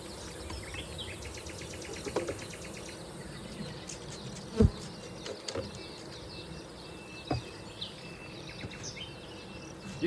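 Honeybees hum and buzz around a hive holding freshly captured swarms, a continuous outdoor drone with occasional sharp knocks and faint bird calls in the background.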